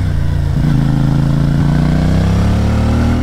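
A CF Moto MT450 twin-cylinder adventure enduro motorcycle engine runs loud and close, a steady throbbing rumble with a slight rise in revs and no talking.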